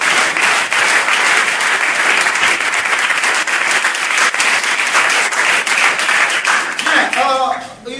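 Church congregation applauding, a loud, dense, sustained burst of clapping from many hands that fades near the end as a voice comes in.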